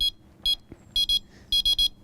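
A carp fishing bite alarm and its receiver emit sharp high electronic beeps, single and in quick bursts of two and three, loud and close against near silence.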